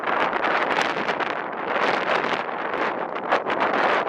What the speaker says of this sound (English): while we wait for the wind to die down